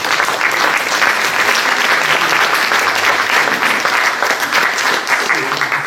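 A crowd at a political campaign meeting for the 2024 European elections in Chambly, France, applauds loudly and continuously, a thick, unbroken wash of clapping throughout.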